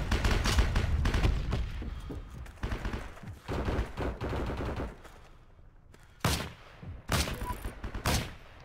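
Sniper and other gunfire in the Heroes & Generals World War II shooter, a series of sharp loud shots with bursts early and three isolated cracks near the end.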